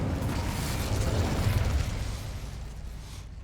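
The Incendio fire spell is cast in Hogwarts Legacy: a dense, roaring burst of flame that holds loud for about two seconds, then slowly thins out.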